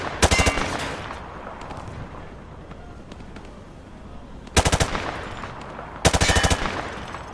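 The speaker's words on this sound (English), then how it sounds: "He sprayed bullets all over the damn place." Hip-fired machine gun from Call of Duty Modern Warfare 2 sounds in three loud, close bursts of rapid automatic fire, one at the start and two later, separated by quieter ambient game noise.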